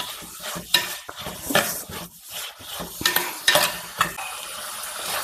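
Ivy gourd (kovakka) sautéing in a pan for a coconut milk curry, with a steady close sizzle broken by repeated scraping and clattering stirs of a utensil against the pan, without any talk.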